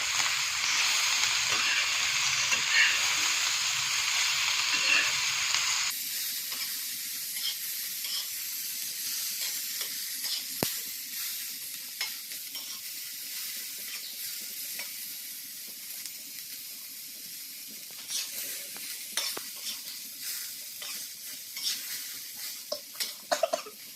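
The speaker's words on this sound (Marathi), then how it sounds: "आपला लसूण आणि टोमॅटो चांगला परतला गेला पाहिजे मिरचीसोबत" Garlic, tomato and green chillies fry over a raised gas flame for kharda, giving a loud, steady sizzle and hiss at first that settles into quieter frying with intermittent stirring scrapes and clatter.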